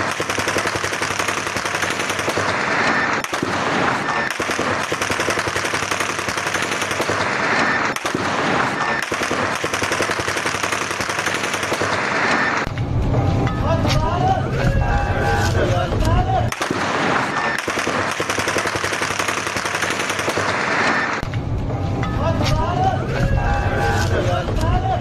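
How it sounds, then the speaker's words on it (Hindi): Rapid bursts of gunfire crackle through a protest in Pakistan, the shots rattling in dense volleys against a loud, continuous din with voices in the background. "सुनवाइए जरा कैसे गोलियां बरसाई जा रही हैं"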